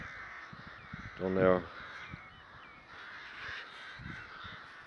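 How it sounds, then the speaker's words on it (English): Crows cawing outdoors near the sea, one loud harsh caw up close and fainter calls after, under someone talking. "Crows."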